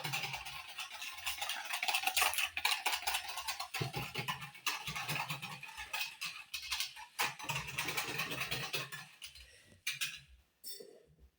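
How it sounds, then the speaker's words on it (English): Yeast mixture whisked in a bowl for white sandwich bread, a brisk continuous scraping and clinking that runs for several seconds, then stops with a few last taps. "And then you can whisk this as well."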